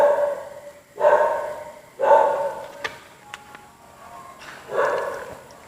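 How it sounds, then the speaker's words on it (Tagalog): A dog barks three times at spaced intervals, moderately close, the gaps between barks carrying quiet background noise. "Aso namin yun."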